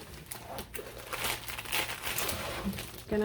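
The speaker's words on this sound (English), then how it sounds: "let's unwrap it and see" Plastic wrapping crinkles and crumples as a cat-themed diamond art kit is unwrapped, a continuous close rustling with scattered sharper crackles and no talking.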